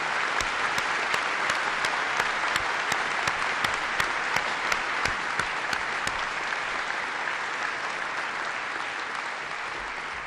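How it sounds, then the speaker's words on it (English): An audience at a military change of command and end of combat operations ceremony applauds, a sustained, even roar of clapping with sharp individual claps standing out, lasting about ten seconds without talk. "He deserves your applause."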